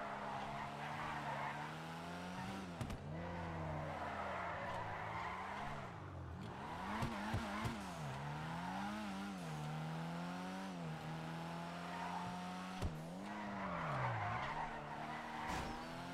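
A drift car in the game GTA Online skidding with long tire squeals over a revving engine, sliding through several bends in a steady rhythm, clear and alone with no talk.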